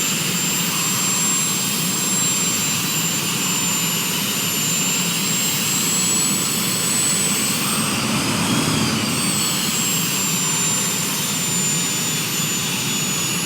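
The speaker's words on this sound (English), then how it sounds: "so we'll be taxiing down here to this side" An airliner's jet engines whine and roar steadily while taxiing in a flight simulator game, a loud, even drone with a high tonal whine on top throughout.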